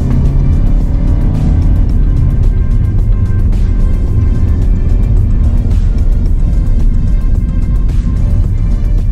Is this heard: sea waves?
no